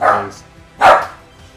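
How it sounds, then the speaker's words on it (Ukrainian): A dog barks twice indoors, two sharp close barks separated by a short pause, fairly loud. "А тепер наш пес гавкає."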